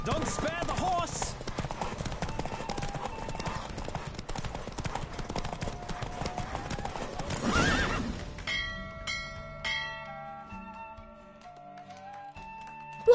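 A galloping horse in The Witcher 3 race clatters rapidly for about eight seconds, then the hooves fade out as a calmer musical tone takes over, with a neigh and faint voices in the mix.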